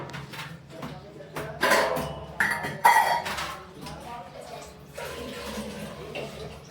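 Water runs into a container at home, splashing and rising in bursts with a few clinks of pots and a soft rushing flow, while voices talk over it.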